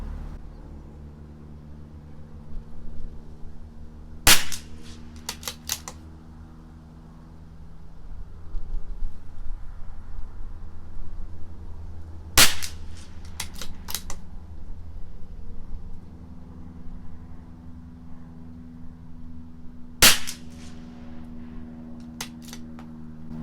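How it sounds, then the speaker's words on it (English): A CZ 457 LRP rifle with an IBI barrel fires Eley Tenex ammunition: three sharp, close shots spaced several seconds apart. Each is followed by a quick cluster of metallic clicks, all over a steady low background hum with no talking. "I'm going to do 5 shots first,"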